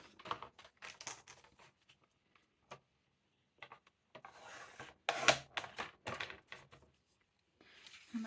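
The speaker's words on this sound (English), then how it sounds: "I'm going to use my trimmer a second to just cut that piece off" A paper trimmer cuts a scrap of old craft paper: a series of short, dry scraping and sliding strokes broken by quiet pauses, close to the microphone.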